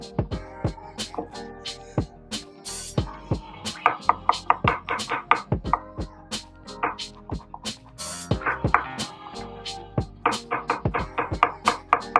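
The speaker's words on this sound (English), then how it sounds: "You may be wondering why I am chopping the garlic." Knife chopping garlic on a board while preparing a Thai stir-fry of eggplant with chicken and basil, a close series of sharp, irregular taps in quick bursts, with brief pauses between runs.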